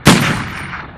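A double-barrel shotgun fires once in a VR game, a sharp loud close blast with a bright crack that tails off quickly into a brief metallic ring.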